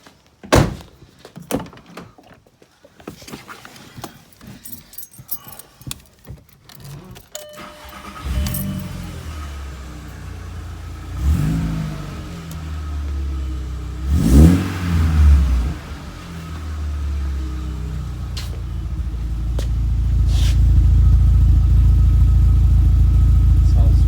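A VW Jetta with a freshly fitted exhaust comes to life after keys jangle and a door thunks, cranking with short bursts before settling into a steady, swelling idle with a few blips, with some talk early on.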